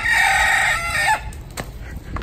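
A rooster crows once, loud and close, in a strained drawn-out call ending abruptly, followed by faint outdoor background noise.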